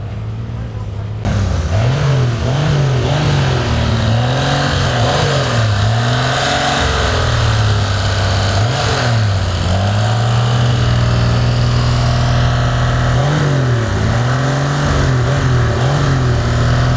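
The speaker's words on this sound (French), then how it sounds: "Le Puma a démarré. Le GTB a démarré. Maintenant, c'est parti." A Puma and a GTB on collector plates start up and drive off, engines revving repeatedly in rising and falling sweeps, loud and close from the cabin, with voices talking over the rumble.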